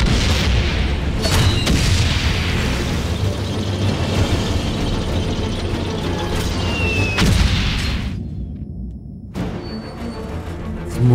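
Booming gunshots and artillery fire from the World War I game Valiant Hearts land over a dense, rumbling battlefield bed. Several sharp, loud blasts are spread through the scene before a brief near-silent gap and then a return of noise.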